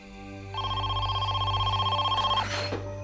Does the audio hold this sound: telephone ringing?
yes